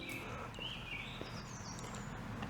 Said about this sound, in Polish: Jak słychać, ptaków mamy pełno